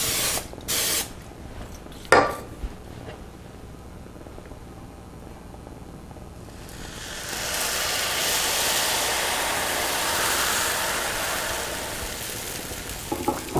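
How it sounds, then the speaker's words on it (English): A few sharp clicks and taps, then a long, steady hiss of cooking oil spray onto a pan that continues for several seconds before fading, with a couple of clicks at the end. "Give it just a quick spray of Pam."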